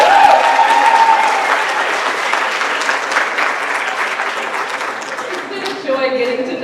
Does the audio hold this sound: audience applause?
yes